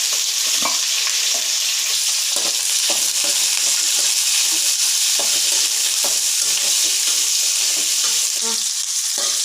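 Spices and curry leaves frying in hot oil in a pan, a steady loud crackling sizzle throughout with scattered pops and occasional scrape of stirring, no voices.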